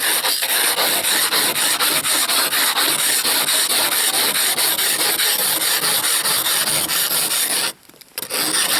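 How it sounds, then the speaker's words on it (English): Continuous close, loud scraping of residue off a solar panel surface, a steady rasping rub that runs almost the whole time before stopping briefly near the end. "Just get that stuff scraped off the surface enough."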